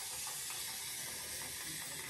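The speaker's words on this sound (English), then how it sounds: "we're gonna go ahead and spray it again because my hair just dries so quick" A spray bottle mists water onto hair, a close, steady hiss of spray lasting about two seconds with faint mechanical clicks from the trigger.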